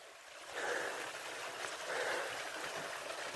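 Steady rushing water from a small waterfall in Aravaipa Canyon, Arizona, a faint, continuous broadband wash with slight surges, heard alone at a distance.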